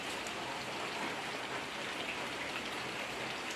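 Heavy rain pours on a rainy morning, a dense, constant hiss of drops on surfaces, fairly soft and unbroken, with no voices.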